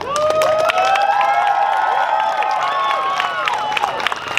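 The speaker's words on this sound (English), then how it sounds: "We should all clap for that." At a Bakersfield Pride 2016 drag show, the crowd claps and cheers for a drag queen: loud, dense applause mixed with whoops and shouting voices throughout.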